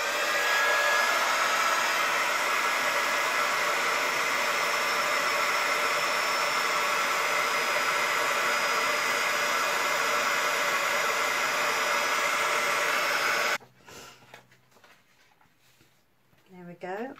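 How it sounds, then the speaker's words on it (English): A heat embossing gun blows with a loud, steady broadband roar for about thirteen seconds while tin foil is in use. It then cuts off abruptly, and a brief voice follows. "Excuse the noise from the heat embosser."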